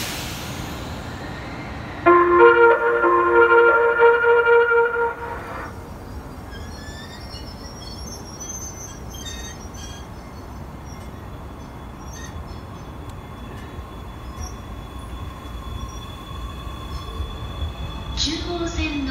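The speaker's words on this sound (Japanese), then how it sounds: "回送列車まもなく発車いたします。" A JR East E351 series limited-express train on an out-of-service run pulls away from Tokyo station: a short bright chime rings early on, then a steady rolling rumble and faint wheel squeal carry on at moderate distance.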